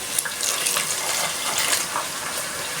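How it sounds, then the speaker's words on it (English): A small amount of water is poured into a pan of spago pasta as it cooks, giving a steady broadband hiss and splash that runs evenly throughout with no voices. "You can now add a little water, just very little water"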